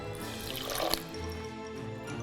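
A quarter cup of water pours into a 4-quart pot holding dark molasses, making a short, close liquid splash and trickle that swells briefly with a small peak near the end of the pour.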